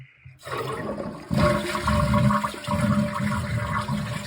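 A toilet flushes loudly and close by as its lever is tested during repair of a running toilet, with water rushing steadily for several seconds.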